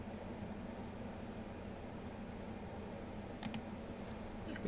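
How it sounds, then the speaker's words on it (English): A few computer keyboard keys are pressed while typing, sharp clicks in a short cluster late on and one more at the very end, over a low steady room hum. "guys are gonna listen to the key presses"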